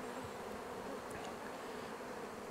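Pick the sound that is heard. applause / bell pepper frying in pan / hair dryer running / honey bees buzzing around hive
honey bees buzzing around hive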